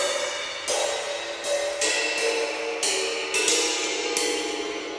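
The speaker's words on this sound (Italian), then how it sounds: "Oh, ma qua ci sono dei china." China cymbal struck with a drumstick, a series of bright, trashy crashes about every half to one second, each hit ringing out loud and close over the decay of the last.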